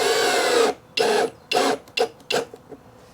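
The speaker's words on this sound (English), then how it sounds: "I'm just putting the screws in" Screws are driven in while building a solar wax melter, heard as several short, close bursts of whirring with brief pauses between them.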